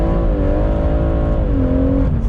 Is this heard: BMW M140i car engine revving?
yes